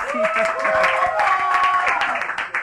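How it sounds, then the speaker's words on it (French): Applause breaks out in a radio studio during a morning show, a steady wash of clapping with voices and singing mixed over it throughout. "Et on va applaudir pour le Yoro."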